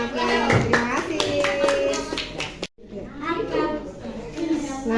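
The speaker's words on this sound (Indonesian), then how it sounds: "Oke, tepuk tangan buat kalian semua." Children clapping in a primary classroom, a short burst of hand claps among kids' voices, then a brief gap and renewed chatter and movement in the room.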